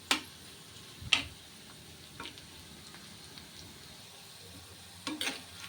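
Bitter gourd pieces fry quietly in a pan, a faint continuous sizzle with a few brief louder clicks and scrapes of stirring near the start and end; no one speaks.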